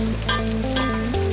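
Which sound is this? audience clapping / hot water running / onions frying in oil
onions frying in oil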